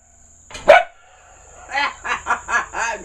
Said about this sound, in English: It drives my dog crazy.